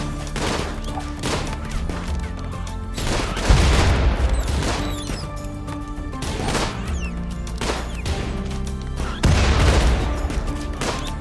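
Frag grenade blasts and rattling gunfire in RimWorld, a chaotic fight of repeated booming explosions and sharp bursts, with heavy low thumps around the four- and nine-second marks, loud and close, no voices.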